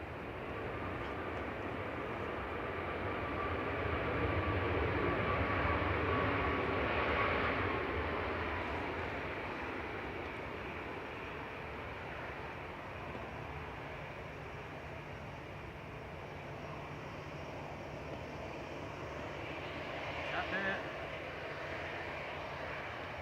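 Ryanair Boeing 737 MAX 8200 jet arriving at Manchester Airport in poor visibility from Alicante, a steady distant engine roar swelling then easing over the runway.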